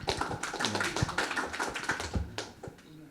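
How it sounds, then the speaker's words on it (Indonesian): Quiet, scattered hand claps from a small audience follow a panel talk at a youth discussion forum, a brief ragged patter of separate claps with no voices. "Oke, tepuk tangan."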